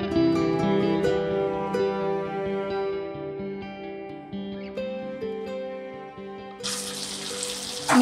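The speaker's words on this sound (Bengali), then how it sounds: "আমি পানি অ্যাড করে নিচ্ছি" Water gushes into a cooking pot of taro (kochu) and dried pomfret (rupchanda shutki) curry in the final second and a half, a loud broadband splash rising over steady background music that fills the rest of the clip.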